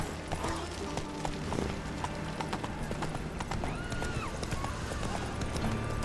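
Hoofbeats of the horse Roach galloping in The Witcher 3 game, a steady rapid clip-clop running throughout at close range, with brief whinnies and game ambience beneath.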